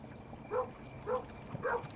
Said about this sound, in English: Bark for me, puppy. Bark.